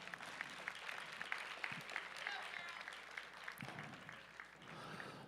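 A crowd at a powerlifting meet claps faintly and unevenly in a large hall, with a few sharper individual claps poking through the murmur.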